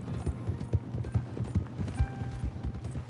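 Horse hooves clip-clopping in the video game Red Dead Online, a steady run of thudding hoofbeats up close, with a few faint tonal game sounds in the background.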